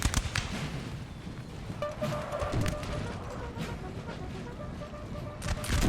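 Artillery guns fire in the Napoleonic battle game Napoleon's Eagles at the Battle of Auerstedt, a dense run of crackling booms and distant volleys over steady battle noise.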